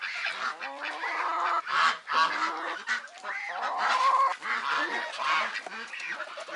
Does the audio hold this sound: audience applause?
no